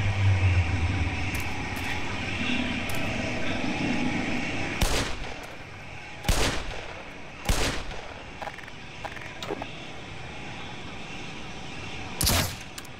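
Gunfire from the player's weapon in the video game Black Mesa, a few sharp, loud shots spaced apart over a steady droning game ambience.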